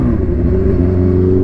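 A supercharged stage 3 Kawasaki Ninja H2 motorcycle roars loudly and close at steady, heavy engine pitch, a brief continuous burst with no talking.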